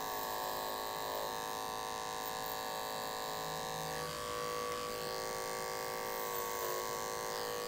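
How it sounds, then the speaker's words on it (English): Electric hair clipper buzzing steadily while cutting thick wavy hair into a side part with a low taper, a faint, continuous electric hum with no talk over it. "that clipper is going through there nice and easy"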